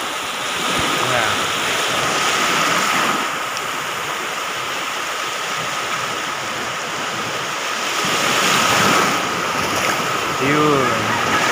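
Sea waves washing over a sandy beach, a continuous rushing wash that swells and recedes, with a voice talking under the surf.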